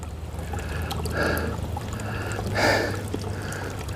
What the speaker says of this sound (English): There is a tiny little spring right there.